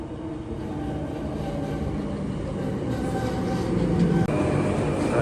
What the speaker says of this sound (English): This train to take us to the stadium.